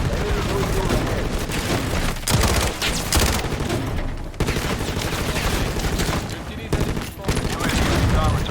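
Rapid automatic gunfire from the Modern Warfare video game, continuous bursts with heavy booms and brief lulls, loud and close throughout, with game voices mixed in at times.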